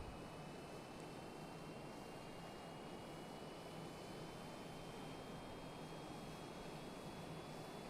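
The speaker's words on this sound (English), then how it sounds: "Hear the engines kind of kicking back on." Simulated aircraft engines spool up in Microsoft Flight Simulator, a faint, steady jet drone with a thin tone slowly rising above it, no talking.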